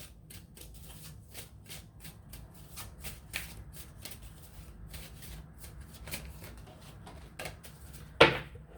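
Tarot cards shuffled by hand in a steady run of soft, close riffling flicks, quiet, ending with a sharper snap near the finish.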